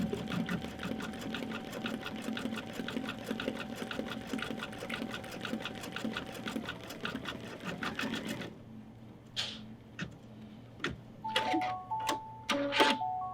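A sewing machine stitches fabric for greeting cards with a fast, even mechanical whir. It stops partway through, followed by scattered clicks and short beeps from the machine.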